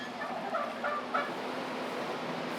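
Turkeys gobble in short bursts inside a barn, faint and a little distant, over a steady background hum.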